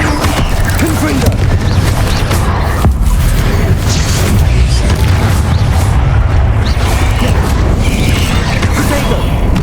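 Confringo and Bombarda spell explosions in Hogwarts Legacy, loud booming blasts and crashing bursts running densely throughout over a low rumbling bed of game sound.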